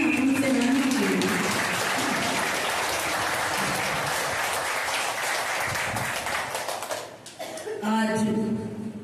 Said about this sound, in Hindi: तो एक बार जोरदार तालियां हम सेनानियों के लिए।